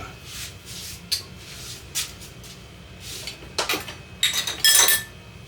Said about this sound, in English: let me get one of grandmother's big old bowls.